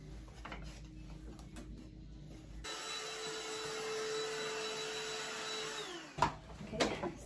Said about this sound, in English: I'm just gonna vacuum it.